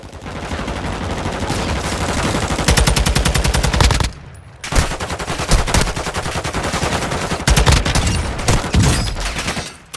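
Rapid automatic gunfire from the video game Call of Duty, with dense close bursts that stop briefly midway and then resume just as loud.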